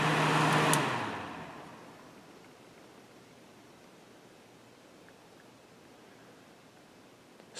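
A Kenmore dehumidifier fan motor, just cleaned and maintained, winding down after being switched off: a loud airy whir fades over about two seconds into faint room hiss.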